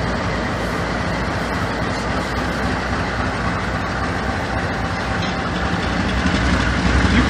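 A long freight train hauling scrap metal cars rolls past in a steady, loud continuous roar with rattling and clickety-clack, building slightly toward the end.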